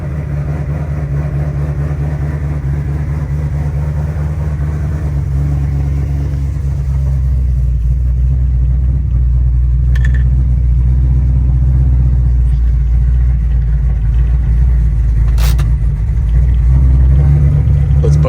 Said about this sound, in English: Starting to get those rough E85 starts with this cold weather now.